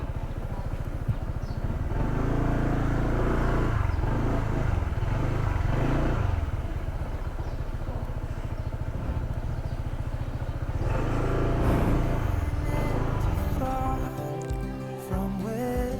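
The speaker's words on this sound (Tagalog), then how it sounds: "Park tayo ng ating motor." A motorcycle engine runs steadily and close for most of the stretch as it is ridden in rural Palawan, its rumble shifting in pitch, then dropping away near the end as it is parked.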